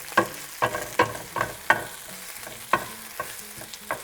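Spinach and garlic cooking in a pan, a series of sharp, evenly spaced metallic taps and scrapes from stirring over a light sizzle, close and fairly loud.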